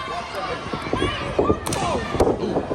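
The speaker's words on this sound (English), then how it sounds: "Beautiful uppercut. Sickening thud," Heavy thuds from an uppercut in a live wrestling match land twice, sharp and close, over steady crowd noise and shouting in the venue.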